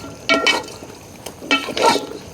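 Chicken frying with turmeric in a pan over a wood fire outdoors on a farm: two bursts of sizzling and scraping stirs stand out over a quieter background, with no speech.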